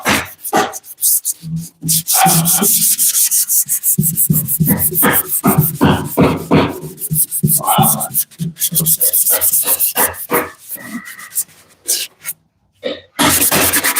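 Sanding paper scuffing weld-through primer on a car body panel in a shop, loud close rhythmic rasping strokes in bursts with short pauses between.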